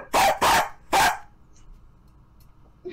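A dog barks three times in quick, loud, close bursts, followed by quiet room noise during an indoor live stream.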